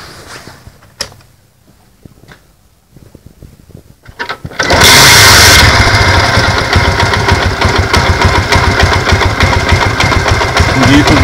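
A 70cc motorcycle engine fires up after a few quiet clicks and settles into a loud, steady, close idle that runs to the end.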